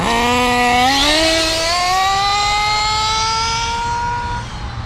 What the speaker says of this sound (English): Hit full throttle a little bit there.